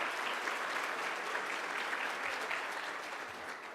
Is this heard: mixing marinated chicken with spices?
no